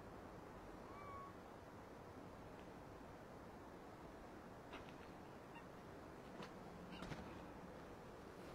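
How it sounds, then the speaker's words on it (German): A cat meows faintly somewhere in the distance, a few thin brief cries over strong steady outdoor noise, with no voices. "Ich habe hier gerade eine Katze miauen hören."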